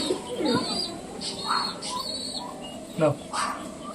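Soft coos and bird sounds from a pet pigeon close by, a few short calls spread across the clip with some background noise.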